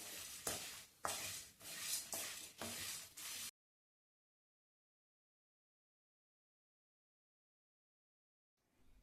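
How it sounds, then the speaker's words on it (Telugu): Ingredients dry-roasted on low heat in a pan until light golden for bisi bele bath are stirred with rhythmic, close scraping strokes for a few seconds, followed by silence. "అప్పుడప్పుడు ఇలా కలుపుతూ ఉండండి"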